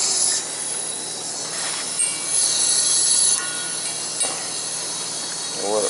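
Water rushing through a purge hose while filling a two-zone hydronic heating system, a continuous hissing flow with intermittent higher surges and faint squeaks, fairly close and steady.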